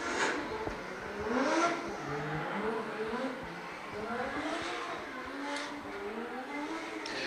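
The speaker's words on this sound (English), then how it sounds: "as he powers out of the final turn, down the front straight, and brings that S15 to a stop" A Nissan S15 drift car powers out of the final turn at a drift event, its engine rising and falling at a distance beneath a commentator's voice.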